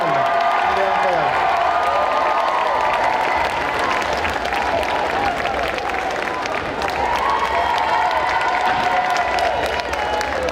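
A crowd at a cosplay contest at Necronomi'con 2023 bursts into sustained, dense applause with cheers and whoops for a cosplayer dressed as Goldorak, loud and continuous throughout.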